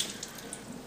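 Running tap water washes out the inside of a cored apple, a steady close hiss and splash of the stream against fruit and sink, continuous and fairly quiet, with no voices.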